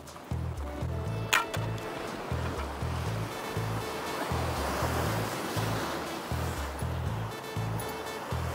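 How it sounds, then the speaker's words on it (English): Big ocean swells and surf roll in along a shoreline during a sea fishing lure session, a steady loud wash of breaking water with a low repeating rumble and some wind buffeting throughout. "Oh, some big swells coming up here."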